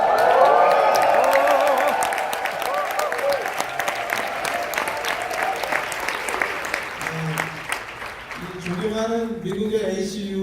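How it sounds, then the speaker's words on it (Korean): An audience at a Korean-American freedom friendship night bursts into cheering and applause, loud at first then thinning to scattered clapping, with a voice speaking over the final seconds. "환호성 한번 지읍시다."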